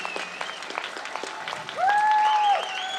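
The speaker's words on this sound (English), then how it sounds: "Let us give a very big applause." An audience applauds after a live musical meditation performance, with steady, moderately loud clapping throughout and a sustained tonal note briefly rising above it.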